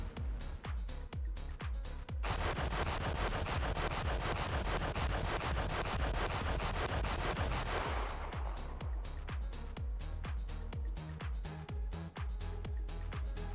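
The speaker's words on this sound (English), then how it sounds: "both guns are firing on slightly different trajectories and landing on the ground in different places" Cannons of a MiG-15 jet fighter in War Thunder fire in rapid bursts, then merge into a long, dense, loud stream of gunfire before breaking back into sparser, rhythmic shots.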